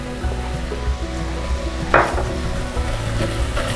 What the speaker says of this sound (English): Adding a bit more flour and mixing this properly